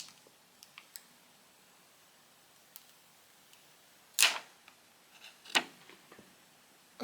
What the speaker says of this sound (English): Time to peel off the protective film.